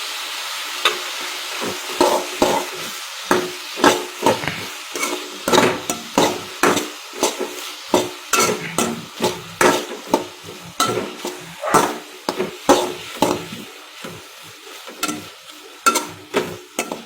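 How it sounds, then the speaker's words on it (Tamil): Tomatoes and onions sautéing in a pan with coarse salt for bread chilli, a steady run of close scraping stirring strokes over a soft sizzle, each stroke a sharp clack in an even rhythm, with no talking. "தக்காளியும் வெங்காயம் வந்து வதங்குறதுக்கு கொஞ்சம் லைட்டாக வந்து கல்லுப்பு சேர்த்துக்கலாம்"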